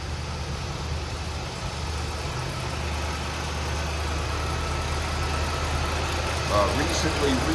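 A 1979 Cadillac Seville's freshly rebuilt 350 V8 idles under the hood, a steady low rumble that swells slightly toward the end, close and continuous with no talk over it.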